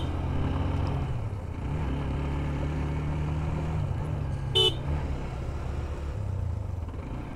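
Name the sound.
Bajaj XCD 125cc motorcycle riding by on a mountain road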